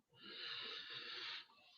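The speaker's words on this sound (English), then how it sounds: "Slowly breathing in" A slow, breathy inhalation lasts about a second and a half as part of a calm relaxation exercise; it is soft and airy, then fades into quiet.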